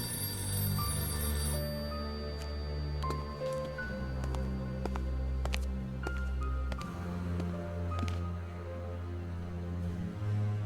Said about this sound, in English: the phone in the back is ringing